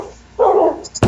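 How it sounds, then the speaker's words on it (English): A dog in Minecraft gives a single short, loud bark, followed by a quick yip at the end. "my dogs are so loud"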